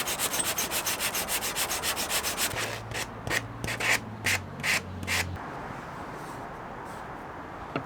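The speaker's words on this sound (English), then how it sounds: "I finished off the handles by hand sanding up to 220 grit" Wooden phone stand handles hand sanded with 220 grit sandpaper: a quick, steady run of close rasping strokes, then a slower series of separate rubs with a low hum beneath.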